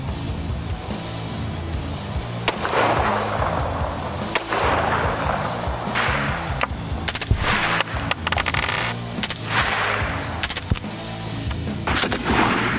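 Glock pistol firing during a special unit's small-arms demonstration, heard as a series of sharp, loud gunshots at irregular intervals over continuous background noise.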